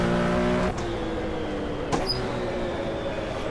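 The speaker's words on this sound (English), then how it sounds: "That Corvette is loud." A loud Corvette race car engine at the 1970 24 Hours of Daytona roars close by in a steady, dense rumble, with a brief sharper burst of revving partway through.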